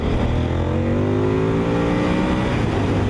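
A Honda VTR1000 SP1 V-twin motorcycle engine revs hard and close, its pitch climbing and then easing back in a continuous loud roar with no talking.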